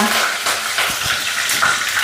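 Green chillies and thinly sliced onions fry in hot oil with tempering spices in a pan for a village-style brinjal masala curry. The sizzle is close and steady, with soft bursts as the pieces land and shift, and no voices.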